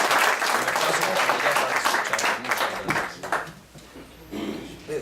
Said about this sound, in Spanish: Y vamos a darle un aplauso para animarlo.